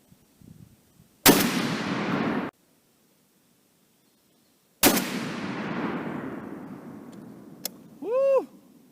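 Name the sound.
Barrett M82A1 .50 BMG rifle shots at steel target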